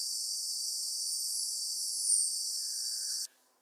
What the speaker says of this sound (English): So there's only 2 species of frogs in the world that call in this ultrasonic range.